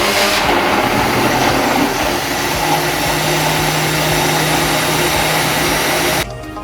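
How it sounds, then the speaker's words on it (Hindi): An electric blender whirs steadily as it purées peaches with sugar, black salt and water, a loud continuous motor drone that cuts off abruptly near the end. "अब मैं इसे ब्लेंड करूँगी,"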